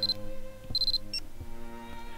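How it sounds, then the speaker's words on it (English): A phone alarm in the horror game Corpse Party: Book of Shadows sounds as short, clear electronic beeps, one brief burst then a longer run and a final blip, over a quiet low game ambience. "I pressed the button on my phone to shut off the second alarm I'd set."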